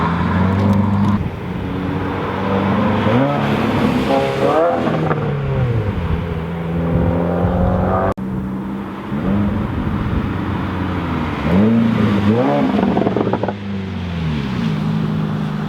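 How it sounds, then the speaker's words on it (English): 2017 Subaru WRX with an axle-back muffler delete revving repeatedly, its exhaust note rising and falling in several loud, close throttle blips over a steady rumble. "Yeah, it's a muffler delete."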